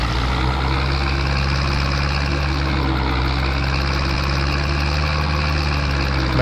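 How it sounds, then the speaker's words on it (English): Tractor engine idling in Farming Simulator 22, a steady low rumble with a constant harmonic drone, loud and close, running evenly without change and with no talking. "Remember how happy I was when we first got this tractor?"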